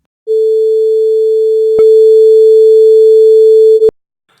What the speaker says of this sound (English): It goes from a quieter tone to a louder tone.